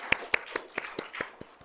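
A church congregation claps during a Korean Wednesday prayer service, giving a short ragged burst of about eight separate sharp claps spread over under two seconds, fairly faint and with no talking.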